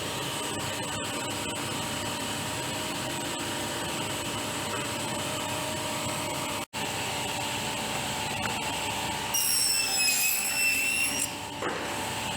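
Power tool cutting handles into white deal wood for emergency beehive supers, a continuous loud whining buzz with one sharp break midway and a shifting pitch near the end.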